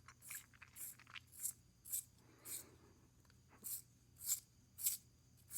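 A pencil turned in a small keychain sharpener, giving a steady series of short, crisp scraping strokes about twice a second, close up and alone.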